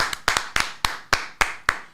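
A single person claps in a studio, about eight sharp, distinct hand claps at an uneven pace, close and clear with near silence between them.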